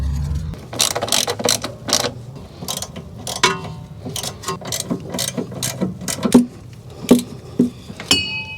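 Nuts and bolts being threaded and tightened on a Toyota RAV4 while fitting a wheel speed sensor, heard as a steady run of close, quick ratchet clicks in short bursts with small metallic knocks between them.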